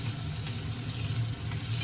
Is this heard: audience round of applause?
no